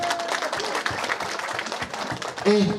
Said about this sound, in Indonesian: tepuk tangan untuk orang Bojong Neros